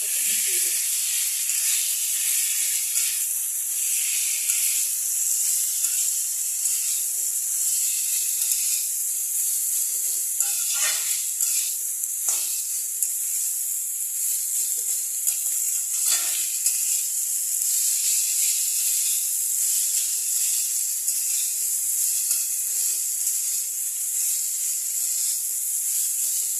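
Shredded cabbage hisses and sizzles steadily in a hot pan as it is stirred together with spices, a constant close frying sound with faint scraping of the spatula throughout.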